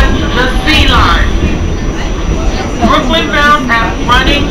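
An R46 New York City subway car runs on the C line between Times Square-42nd Street and 14th Street, its loud steady rumble and wheel roar continuous throughout while several voices talk over it.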